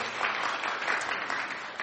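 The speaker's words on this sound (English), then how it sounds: "Okay, so should just give them a round of applause," Close round of applause from a small group cheering two competitors after a filling contest, steady dense clapping throughout with no pauses and no talking over it.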